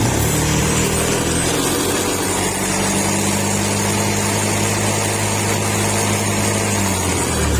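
A loud, steady motorcycle engine drones continuously up close, a rough low rumble with constant idling noise throughout.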